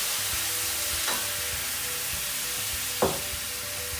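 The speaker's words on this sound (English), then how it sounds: "What that is going to do is deglaze this pan" White wine poured into a hot pan while cooking braciole sizzles and fries steadily, with two brief louder bursts of hissing as the liquid hits the metal, heard alone without talk.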